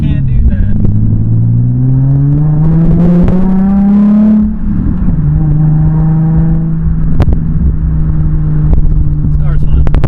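A modified Nissan 350Z drives along with its engine droning and rising through the gears, a steady close cabin rumble with a shift midway, while a person talks over it.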